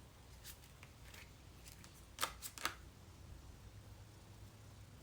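Quiet, close riffling snaps of cards being shuffled, a few soft flicks then a cluster of sharper ripples in a near-silent room.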